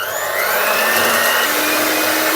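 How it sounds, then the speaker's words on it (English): Electric whisk beating egg whites for a lemon meringue pie, a loud, steady high-pitched motor whir running continuously and close up with no talking. "take your egg whites, and I very much recommend using an electric whisk"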